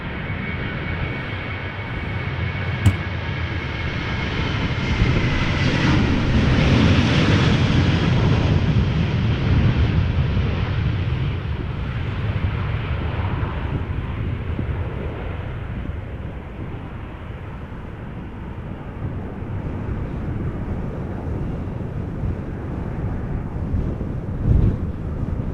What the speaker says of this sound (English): This is KLM flight 1669 going to Barcelona. 737-800.